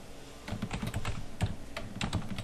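Typing on a computer keyboard to enter a folder name, a quick run of crisp, close key clicks in uneven bursts with no speech.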